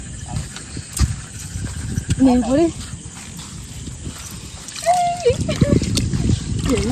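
Footsteps wading through a shallow, low-water river in the dry season, with irregular splashes and sloshes close by while people talk throughout.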